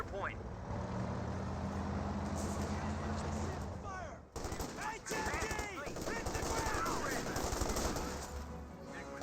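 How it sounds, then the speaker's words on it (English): MG34 machine gun fire in Company of Heroes 2 comes as sustained rattling bursts amid battlefield rumble and explosions, with a commentator talking over the gameplay throughout. "MG34 gets a good suppressor there"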